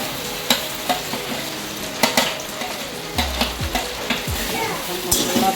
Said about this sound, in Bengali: মশলা ভাজা হবে।